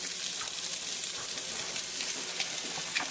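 Beaten eggs fry with gobo tempura in a hot pan for homemade chow fun, producing a continuous, even hiss of sizzling heard alone at moderate volume.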